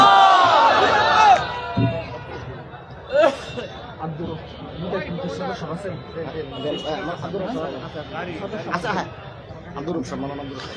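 Large crowd at an Islamic political rally in Phulpur, Mymensingh, Bangladesh, chanting a loud collective takbir response in a burst near the start, followed by sustained crowd chatter and hubbub.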